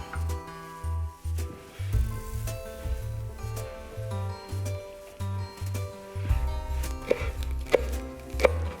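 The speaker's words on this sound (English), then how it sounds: "Now we'll come back to our pork shank, and we'll cut it into small pieces." Knife chopping pork shank into small pieces on a board, a steady series of firm, close thuds in a regular rhythm, with no voices.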